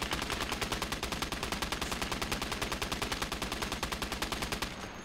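A heavy machine gun in the WWII game Gates of Hell fires one long, steady burst of evenly spaced rapid shots, loud and close, running almost the full length before stopping.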